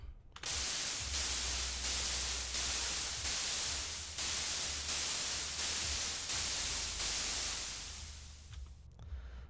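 A supersaw synth run through a Redux bitcrusher with soft downsampling, giving a loud, hissing, static-like wash pulsing in regular beats and fading slightly near the end.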